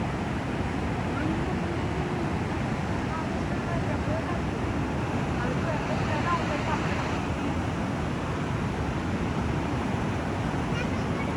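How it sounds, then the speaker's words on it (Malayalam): A rain-swollen river rushes in a constant broadband roar, loud and steady without a break, with some wind buffeting nearby. "ഭയങ്കര വെള്ളത്തിന്റെ സൗണ്ട് കേട്ടോ, വെള്ളം അടിക്കുന്നതിന്റെ"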